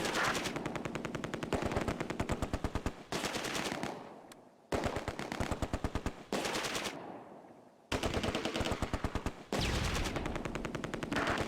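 Machine guns fire in the Close Combat: A Bridge Too Far war game during the Market Garden operation. Long, dense bursts of rapid automatic fire are loud and close, broken by a few short pauses, with no speech.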